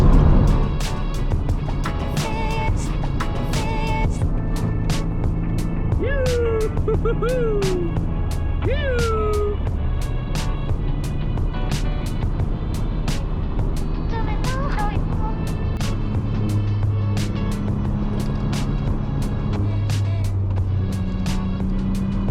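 A 1986 Nissan 300ZX engine drones steadily while driving, a low, close-miked hum that holds through the clip, with scattered clicks and brief higher tones on top and voices chatting over it.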